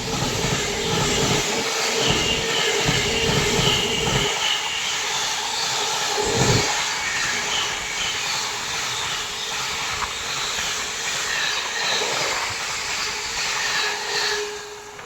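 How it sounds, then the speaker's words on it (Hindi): Special passenger train from Anand Vihar running on the rails past Aligarh Junction without stopping, a continuous loud rumbling roar with rhythmic clatter heard from onboard, steady for the whole stretch. "और अपनी ट्रेन पहुंचने वाली है अलीगढ़ जंक्शन।"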